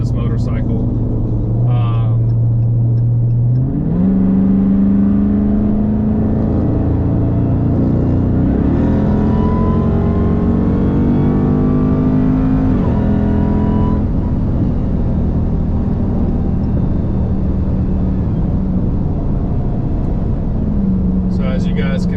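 A 2022 Dodge fitted with an AWE Track Edition exhaust holds a deep, steady rumble just under 2,000 rpm, loud and close, with a shift in pitch partway through and a passing motorcycle mixed in.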